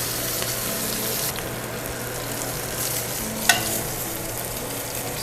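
Stuffed bone-in pork chops fry in oil in a pan, giving a steady close sizzle with a faint hum and one sharp tap partway through.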